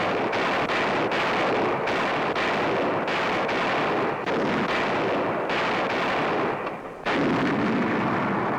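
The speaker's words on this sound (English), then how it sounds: "every day they test the quality of their work with point-blank fire on the proving grounds" Wartime artillery shells test-fired point-blank on a proving ground, a rapid series of loud booming blasts one after another, each followed by rumble, and a sharper final report near the end, with no talk.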